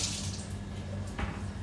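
Tap water runs steadily into a kitchen sink as fresh ginger is rinsed under it, a continuous close splashing hiss with a brief louder gush near the end.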